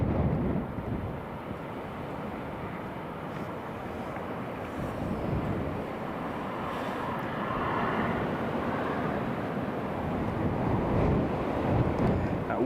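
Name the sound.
strong blustery wind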